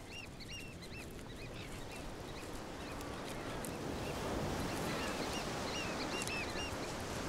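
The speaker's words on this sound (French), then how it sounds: "Une colonie de manchots du Cap s'est elle aussi installée dans la réserve." African penguin colony calling on a coastal nature reserve shore, many braying calls overlapping at a distance over a constant wash of surf and wind, with no voices.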